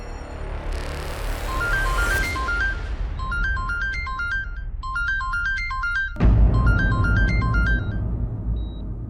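A phone ringtone plays a repeating electronic melody in short bursts over a low rumble of background noise, with no voices.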